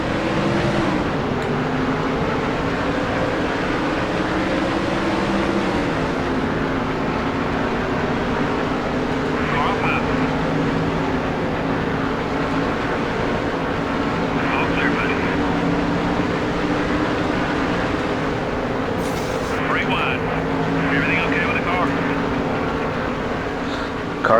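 A pack of NASCAR stock car engines roaring at a race start in the NASCAR Thunder 2003 video game at the Brickyard 400, a dense, steady drone throughout, with someone talking over it.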